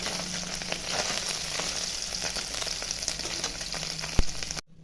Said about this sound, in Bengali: সব মাছগুলো ভাজা হয়ে গেছে